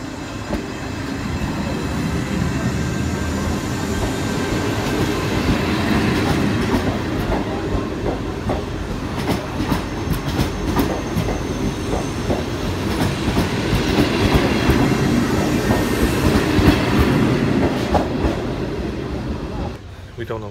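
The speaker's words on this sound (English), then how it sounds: "Going on the trains." A metro train rumbles steadily along the rails in Naples, Italy, with rhythmic clatter and occasional squeal, heard from inside the carriage, sustained throughout.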